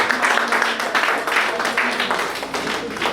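A church congregation applauding during a French-language worship service, a steady brisk patter of many hands clapping in rhythm, moderately loud, with faint voices underneath.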